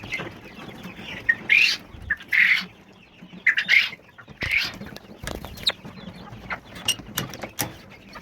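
Japanese quails, about 45 days old, give short, sharp chirping calls in scattered bursts amid a busy, rustling background.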